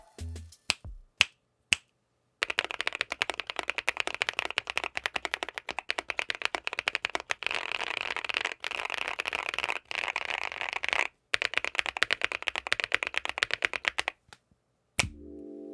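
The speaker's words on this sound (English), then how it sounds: "Let's take a listen to the board with some Akko Palm Pink switches" Steady rapid typing on a Monsgeek M2 mechanical keyboard with a polycarbonate plate, Akko Palm Pink switches and die-sub PBT keycaps, a close, continuous stream of crisp clacks with a few isolated keystrokes before and after.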